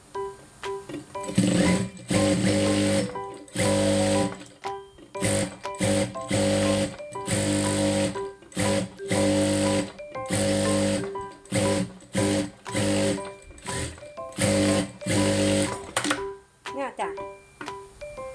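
Sewing machine stitching stretchy fabric in repeated loud bursts of rapid needle chatter separated by short pauses, close and dominant, with someone speaking Thai between and under the runs.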